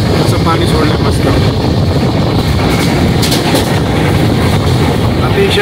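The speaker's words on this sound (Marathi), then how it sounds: "ट्रेन जोरात चालली आहे, जवळ 110-120चं स्पीड आहे" A passenger train runs fast at roughly 110-120 km/h on an LTT to Pithapur express route, giving a steady, loud broadband rumble of wheels and car noise that holds unbroken from start to finish.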